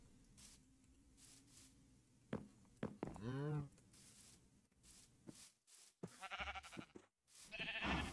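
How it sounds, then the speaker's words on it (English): A blocky sheep in Minecraft single-player survival gives one wavering bleat midway through, mixed with other short game noises and some quiet talk. "We even got cows and sheeps."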